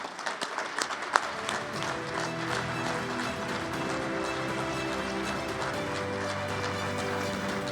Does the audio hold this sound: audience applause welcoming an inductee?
yes